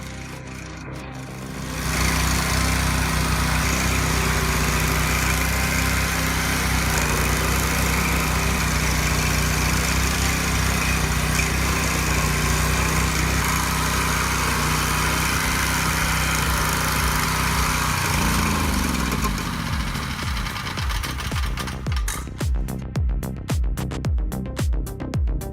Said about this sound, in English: This DIY stump grinder rips through roots with a compact frame, raw hydraulics, aggressive cutting wheels, and a muscular engine